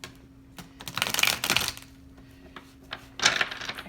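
Cards from a tarot deck shuffled by hand in a few brief riffling bursts, soft papery rustle and flicking close by, quiet overall with short pauses.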